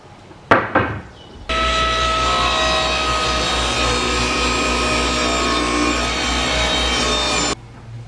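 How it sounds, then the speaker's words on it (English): A thickness planer feeds rough sawn mulberry boards, starting with a few sharp knocks, then a loud steady machine roar that holds for about six seconds before cutting off. "I need to also run a couple more rough sawn boards of mulberry through the planer"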